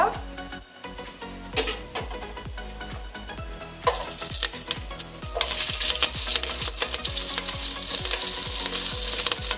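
Whole spices and green chillies fry and sizzle in hot oil, with a steady crackling hiss that swells louder partway through and regular stirring scrapes and clinks of a spoon against the pan, close up.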